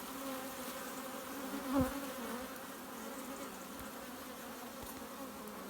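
A steady hum of many honey bees buzzing together at a hive entrance, continuous and moderately loud, with one bee passing briefly closer; the hive is in swarm mode.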